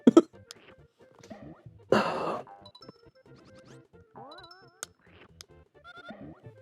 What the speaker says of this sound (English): I just want to be over this cough